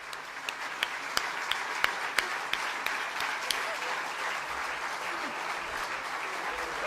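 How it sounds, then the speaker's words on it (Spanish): An audience at a political rally in Huesca applauds a birthday greeting, a steady mass of clapping with a few sharper individual claps standing out early, then fading slightly. "empecemos con una felicitación y un aplauso a Marcelino Iglesias"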